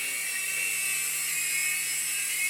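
Remote-control helicopter flying nearby, a continuous high-pitched electric whine with a steady hum, holding level and unbroken throughout.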